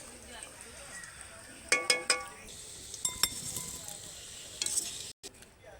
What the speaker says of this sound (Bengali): লাল লাল করে আলুগুলো ভেজে নিই